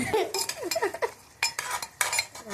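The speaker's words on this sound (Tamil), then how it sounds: "கரண்டி எடுத்து கிண்டிக்கலாம்" A metal ladle scrapes and clinks around inside a pot in quick irregular strokes, close by, with no talking.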